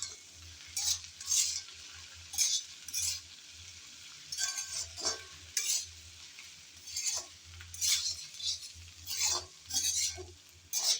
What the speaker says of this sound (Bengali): ঢেঁড়স আর কাঁচামরিচ দিয়ে কিছুক্ষণ নেড়েচেড়ে ভেজে নিলাম